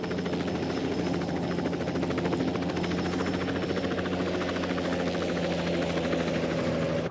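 A helicopter hovering in place and slowly losing altitude, with a steady close rotor thump and engine whine that fills the whole stretch without pause.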